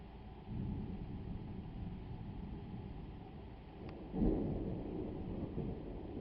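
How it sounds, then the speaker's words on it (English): Thunder rumbling during a severe storm, a steady low roar with a heavier burst of rumble partway through, fairly close and loud over a constant wash of rain or wind. "Such a cool storm."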